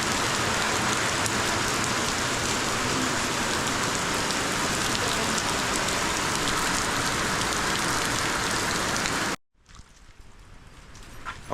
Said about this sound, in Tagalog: Okay guys, so it's raining.